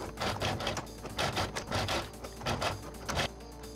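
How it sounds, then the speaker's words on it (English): Gears grind and clatter in a 60-speed manual transmission model running at high gear ratios, a rapid, uneven mechanical rattle in repeated bursts, close and fairly quiet with no talking. "at the high gear ratios, the gears really start grinding and acting weird."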